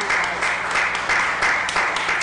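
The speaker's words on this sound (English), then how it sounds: "I think we owe you a round of applause" An audience at a city council meeting applauds the engineering staff with a steady, moderately loud wash of clapping that pulses slightly and holds throughout.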